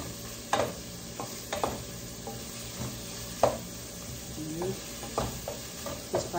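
Shrimp for sweet and sour shrimp frying in a pan, a low steady sizzle broken by scattered clinks and scrapes of stirring, close by and moderately quiet, with no one speaking.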